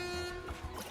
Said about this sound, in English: good air horn from DK.